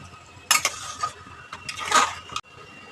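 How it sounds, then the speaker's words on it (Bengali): Mutton do-peyaza with chopped coriander is stirred in a pan: a few scraping, clinking strokes of a spoon against the metal, close by and fairly quiet, with short pauses between them. "এতে আমি ধনেপাতা কুচি দেবো, দিয়ে আবারও মেশাবো সব একসাথে।"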